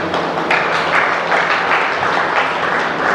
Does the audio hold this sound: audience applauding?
yes